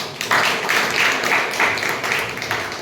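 An audience applauding at a Toastmasters club meeting, a burst of close, lively hand clapping that begins abruptly and holds steady for a few seconds.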